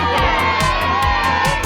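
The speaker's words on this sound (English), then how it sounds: "Peppa and George shouted with excitement." Cartoon children shouting and cheering with excitement after a ball is kicked into a goal in a park, loud bursts of whoops over a busy crowd-like bed.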